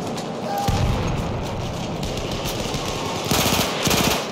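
Loud, rapid machine gun fire in a Battlefield match crackles in sustained bursts, with a heavier volley near the end amid other battle noise.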